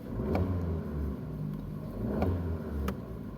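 A car engine with an unstable idle that won't settle rumbles close up, its revs rising and falling in a slow surging rhythm as the throttle is applied, with sharp ticks at intervals.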